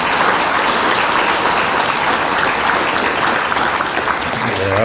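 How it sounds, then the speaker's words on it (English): A large audience applauds continuously and loudly throughout, a dense steady wash of clapping celebrating the announcement of a new queen. "Can we have a round of applause, please,"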